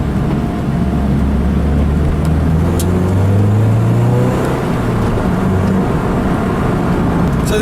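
A manual Lotus Elise sports car drives along a road, its engine droning loudly from inside with a rising and falling pitch as it pulls through the gears, under steady road and wind noise.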